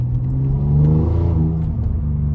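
Turbo spool from a 2012 Ford Taurus SHO with a broken exhaust, a steady whistling whir over a loud engine drone heard from inside the car with the windows up, rising briefly in the middle, no talk.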